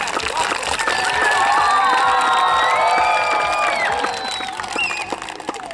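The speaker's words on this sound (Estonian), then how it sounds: "tehke nüüd oma emadele, isadele ka üks hästi suur aplaus ja häälega" Parents and relatives at an under-8 youth football tournament award ceremony in Otepää cheer, whoop and clap loudly, with children's shouts rising above a sustained roar that eases slightly toward the end.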